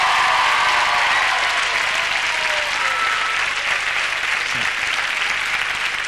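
TV studio audience applauding steadily for a music act on a Spanish television show, a dense, even wash of clapping throughout without talk.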